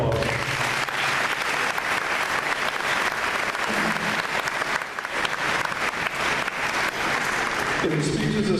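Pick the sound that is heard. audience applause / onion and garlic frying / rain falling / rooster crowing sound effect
audience applause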